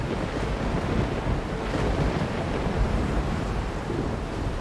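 A stormy sea in Sea Dogs: dense, unbroken roar of gale wind and breaking waves around a sailing ship, loud and steady throughout, with no one speaking.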